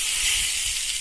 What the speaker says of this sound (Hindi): अब इसमें मैं इस दाल में मसाले के ऊपर ये मैंने ये तड़का लगा दिया